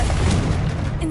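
A Confringo blasting spell from the video game Hogwarts Legacy bursts out as a short, loud, dense blast that fills the whole moment.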